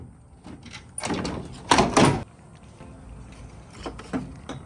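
A plastic tail light assembly on a 2008 Toyota Tundra is worked loose and slid out after its T30 bolts come off, giving a few close scraping, clunking knocks with a louder rattle in the middle and quiet between.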